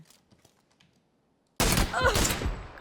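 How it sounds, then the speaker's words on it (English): Gunfire in PUBG (PlayerUnknown's Battlegrounds): after a quiet stretch with faint clicks, a loud, dense burst of shots erupts and carries on to the end. "Just landed a headshot and then a follow-up either arm or body shot"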